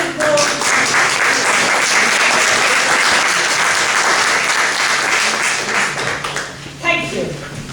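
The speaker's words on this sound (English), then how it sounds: "So could we have a round of applause?" Audience applause at an award ceremony in Amherst, Massachusetts, with dense, sustained clapping from a room of people that stays loud before thinning toward the end.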